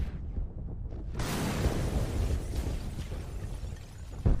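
A single loud explosion in the video game Only War erupts after a brief quiet moment, followed by a sustained roaring, crackling rumble and a final thump near the end.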